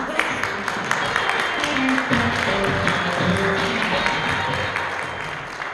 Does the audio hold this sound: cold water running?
no